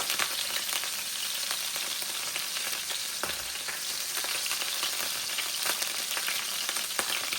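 A burger fries in hot grease, giving a steady, dense sizzle with crackling pops throughout, close and loud, with no talk over it.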